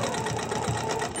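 A sewing machine stitches a quilt with a feather template ruler, making a steady, fast mechanical whir with rapid needle ticks. It runs close and continuous through one short burst.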